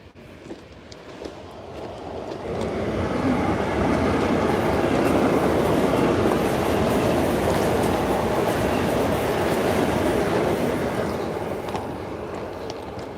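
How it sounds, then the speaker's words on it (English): A train rolls past close by, a loud sustained rumble with steady rail clatter that swells and holds for several seconds before easing slightly, with no talk over it. "Oh, there's the train."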